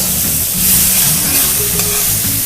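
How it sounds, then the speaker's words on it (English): Chopped onions frying in butter give a loud, continuous close sizzle with a dense hiss and faint bubbling throughout. "Now we're going to add the onions, chopped onions."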